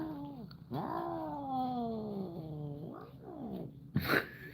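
A cat meows nearby in a long, drawn-out, wavering call, then gives a few shorter mews and ends with a sharper, higher cry, clear and alone.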